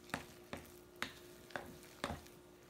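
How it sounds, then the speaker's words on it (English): Mashed potato mixed with ranch seasoning for patties is stirred in a bowl, giving about five soft, evenly spaced thumps and squelches, close and quiet. "All right, just mix this all together."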